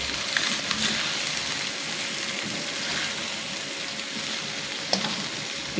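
Vegetables for Schezwan noodles fry in a hot pan, sizzling steadily as they are stirred, with occasional light scrapes; a close, continuous hiss with no voice.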